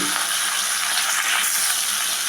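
Fish heads frying in hot oil in a home kitchen, a steady dense sizzle with crackling spatter running throughout at close range, no voices.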